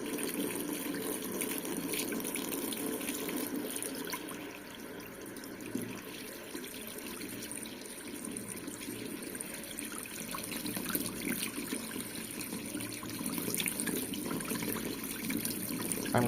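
A kitchen faucet runs steadily, a continuous broadband rush of water close by and fairly constant in level, with no voices over it.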